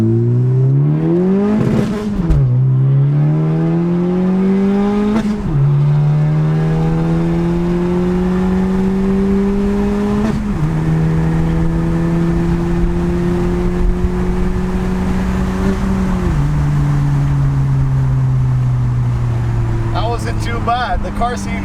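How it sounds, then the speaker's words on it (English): A 2018 Honda Civic Si 1.5T with a PRL Cobra cold air intake pulls through several gears on the road, each rising whoosh and intake suck ending in a shift, loud and close throughout. "we're getting a nice noise coming through, and it's like a sucking noise, obviously, through the cold air"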